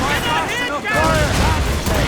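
Cannon fire during naval combat in Assassin's Creed Rogue, a dense rumbling barrage of booms mixed with loud shouting voices and game music throughout.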